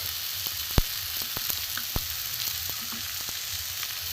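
Jackfruit kachori filling seasoned with salt, turmeric and spices sautés in a pan, giving a steady soft sizzle broken by a few sharp spoon clicks and stirring knocks, with no talk.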